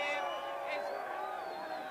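A large crowd cheering wildly at the announcement of Sydney as the 2000 Olympics host city, a dense sustained roar of voices and whoops with someone talking over it.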